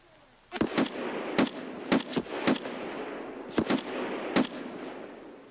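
Rapid gunfire from a weapon in the video game Escape from Tarkov, sharp loud shots fired singly and in short bursts over a low background hum, with no talking.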